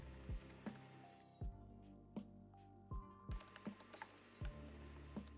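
Someone types on a computer keyboard, a faint, sparse scattering of soft key taps and occasional heavier thumps at an uneven pace, with no talking.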